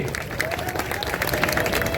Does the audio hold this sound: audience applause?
yes